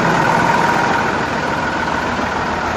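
A truck idles at the João Pinheiro toll plaza with a strange noise from the driveshaft area, a steady, loud, close engine drone with a mid-range rattling hum and no voices.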